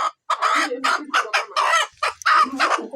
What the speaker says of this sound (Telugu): కోడి గుడ్డు పెడుతుంది.